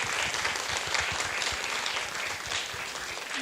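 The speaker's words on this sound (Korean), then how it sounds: "큰 박수 한번 보내주시기 바랍니다" An audience at a children's composition showcase concert claps steadily, a dense, even wash of applause sustained throughout at moderate distance, with no voices over it.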